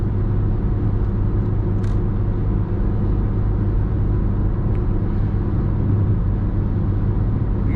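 A 2012 Fiat Albea 1.4 labouring up a steep hill gives a constant, loud, low engine drone heard from inside the car, steady without breaks.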